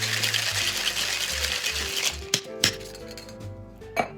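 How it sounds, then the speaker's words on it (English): Ice rattles and clinks inside a cocktail shaker holding white Panamanian rum for a Dalgona coffee cocktail, a dense rapid churning that stops, followed by a few sharp separate clinks of ice and glass. "Got our ice. Give this a shake."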